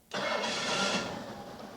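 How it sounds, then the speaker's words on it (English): A V8 car engine with an Autolite 4100 carburetor cranks and catches, jumping abruptly to a steady, loud mid-pitched rumble that settles into a smooth idle on all 8 cylinders. "We're now going to start the engine."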